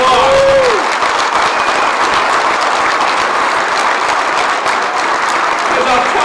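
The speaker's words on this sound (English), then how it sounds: "I would like you to give him a round of applause." A large union audience applauds steadily and loudly throughout, dense clapping with a few cheers mixed in and a brief whistle-like tone at the start.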